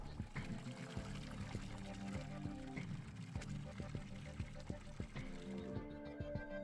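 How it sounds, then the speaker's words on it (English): Cupped hands plunge into a pool of glowing green water in Hypnagogia: Boundless Dreams, a watery splash and trickle among clicky game effects and tonal background, with someone talking over it. "Gently plunge your cupped hands into the pool of glowing green water"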